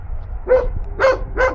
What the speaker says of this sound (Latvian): Kā var būt tik bailīgs suns?